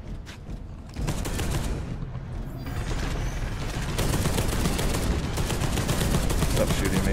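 Dense, continuous gunfire in the video game Space Hulk Deathwing, a steady roar of heavy weapons and explosions with players' voices mixed underneath.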